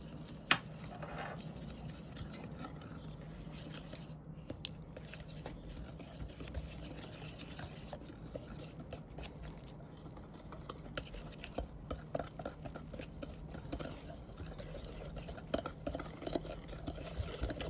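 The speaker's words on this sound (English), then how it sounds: "and then we're gonna whisk" Pancake batter made with rice flour, egg and melted butter is whisked in a bowl, giving a steady, soft scraping rattle with small irregular clicks throughout, close and fairly quiet, with no talking.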